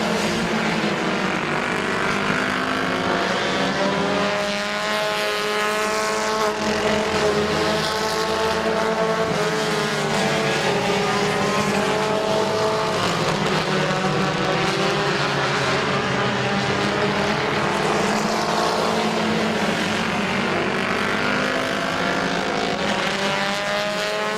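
Compact race cars lap Midvale Speedway, a dense roar of several engines rising and fading as the pack passes, loud and continuous throughout with no one speaking.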